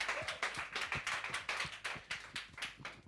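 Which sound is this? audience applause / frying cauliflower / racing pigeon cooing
audience applause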